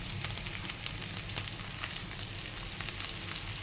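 Leafy greens dropped into a hot pan sizzle with a dense, steady crackling hiss close by, continuous and fairly quiet with no voices.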